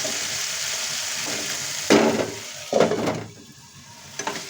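Nutri soya chunks coated in yogurt and spices fry in a pan, a steady sizzle broken by two louder bursts of stirring or moving the pieces, then quieter cooking.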